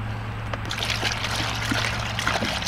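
Steady hiss of water spraying from a Zodi portable shower while a dog is rinsed, a continuous close spray and trickle with a low hum underneath and no talking.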